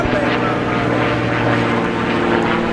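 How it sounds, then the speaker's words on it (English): An airplane passes overhead with a steady, droning engine hum that stays loud and even throughout, while voices murmur beneath it. "Look at that airplane"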